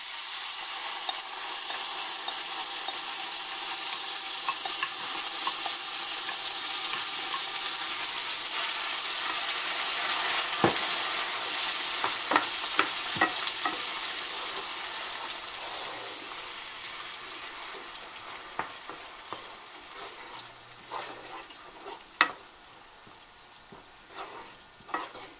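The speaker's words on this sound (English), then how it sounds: "your flame to medium and add your tomato puree." Tomato puree made from blended fresh tomatoes sizzles steadily in a pan over a medium flame, with a spoon stirring through it and scraping now and then as the frying hiss slowly quiets.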